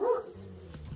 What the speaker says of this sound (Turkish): bak köpekle kavga ediyor baba